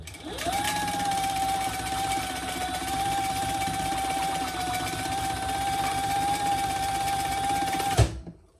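Close and steady, a sewing machine hums through a continuous row of stitches with a sustained motor whine for about seven seconds, then stops abruptly with a thunk.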